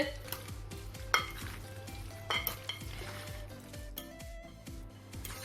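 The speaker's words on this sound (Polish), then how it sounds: "Więc mieszamy wszystko dokładnie." Pasta tossed with tomatoes and a whole block of feta is stirred in a pan with a utensil: repeated scraping and knocking strokes over a soft background hum, with a few sharper clinks of metal against the pan.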